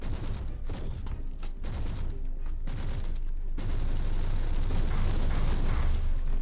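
Shotgun fire in the Warhammer 40k Inquisitor video game, a dense, loud and continuous barrage of blasts and explosions that overlap into a steady roar of combat.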